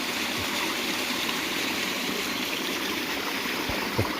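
Creek water flows behind a dam in a continuous, moderately loud rushing wash, close and steady, with a few faint low knocks and no voices.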